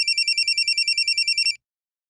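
A telephone rings with a rapid, steady electronic trill of repeated pulses, loud and close, then cuts off abruptly.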